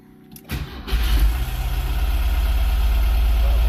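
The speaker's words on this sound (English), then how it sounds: "I'm gonna start this thing up." A Porsche 914 engine cranks briefly after a few clicks, then catches and settles into a loud, steady low idle rumble, close up with no talking.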